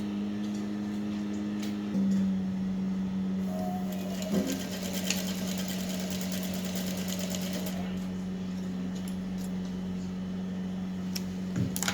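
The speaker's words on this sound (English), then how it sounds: "Now the side is going to be sewn as we have talked about it." A sewing machine stitches the side seam of a one-shoulder peplum blouse at a 1-inch allowance, a steady close motor whir running the full length with a brief pause and a few clicks.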